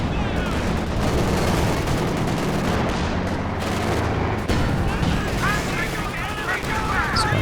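Artillery barrage in the video game Company of Heroes 2: dense, continuous booms and rattling gunfire in a loud battlefield mix, with a commentator talking over it.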